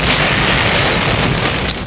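Aerial bombing in Chile, heard as loud, continuous, roaring blast rumble with dense broadband noise throughout, no distinct separate booms, steady and close.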